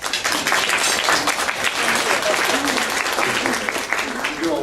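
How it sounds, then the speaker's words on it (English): Steady, dense audience applause fills the room at a leadership talk, a continuous wash of many hands clapping at even loudness throughout. "Now I'm going to applaud you."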